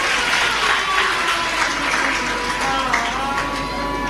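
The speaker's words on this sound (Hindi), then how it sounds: "एक बार उनके लिए भी जोरदार ताली बजाकर साधुवाद है" Applause rises from the audience at a Hindu religious discourse, a continuous wash of many hands clapping loudly and evenly throughout, with no voice over it.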